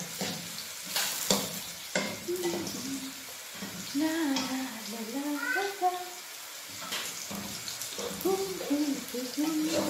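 Browned onions fry in a pan with a steady low sizzle and some stirring, while a voice talks over the cooking throughout.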